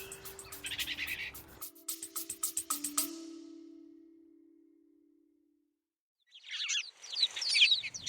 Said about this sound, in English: the sound of some of your favourite birds